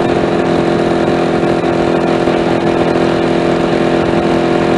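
A small motorcycle cruises at speed around 60, its engine droning steadily and loudly with a buzzing, constant tone close by, with no voices.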